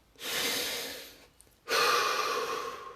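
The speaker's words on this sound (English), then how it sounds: "Take a deep breath" Two long, deep breaths sound close by during a guided relaxation, a drawn-in inhale followed after a short pause by a fuller, louder exhale, with no talking.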